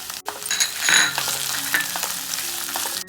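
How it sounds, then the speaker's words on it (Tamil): Green beans and carrots sauté with onion and ginger-garlic paste in a hot pan, giving a steady close sizzle broken by a few scraping stirs, with no voices present. "காய் நல்லா பாதி வேக்காடு வர்ற வரைக்கும் வதக்கிக்கலாம்."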